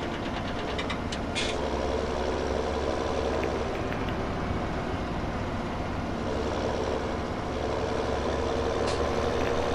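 A tractor in Farming Simulator 17 drives out toward field 26, its engine holding a steady, loud, knocking diesel drone with no breaks.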